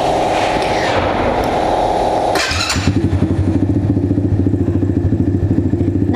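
A 110cc gasoline ATV engine idles and runs with a steady, loud, rapidly pulsing putter, and a brief clattery burst comes partway through.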